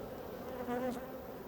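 Honey bees hum and buzz close by in an open hive during an inspection, a soft steady drone with a brief louder swell as one passes near.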